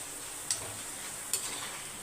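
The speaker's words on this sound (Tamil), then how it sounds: "இந்த அப்பளத்தை வறுத்து வச்சிடணும்" Appalam (papad) frying in hot oil, a soft continuous sizzle with two brief crackling pops, faint and close.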